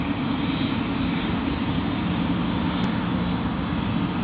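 An Emirates airliner at Sydney Airport roars as a steady, loud broadband rumble of jet engines, heard continuously and fairly close with no voices.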